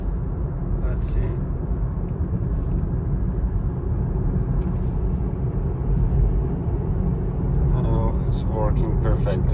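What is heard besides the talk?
Tesla car driving, interior road noise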